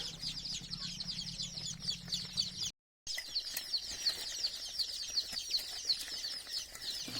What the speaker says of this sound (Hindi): ये जो चूजे अभी आप लोग देख रहे हैं ये pure original A grade Sonali के चूजे हैं